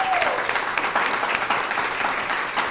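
A studio audience on a talk show claps for a singer, a steady dense patter of many hands throughout, moderately loud, with a brief whistle or cheer right at the start.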